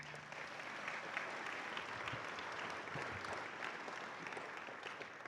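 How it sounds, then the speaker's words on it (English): Soft, distant applause from an audience at a charity breakfast event, a continuous even patter of clapping with no speech over it. "Can we please give them a round of applause again?"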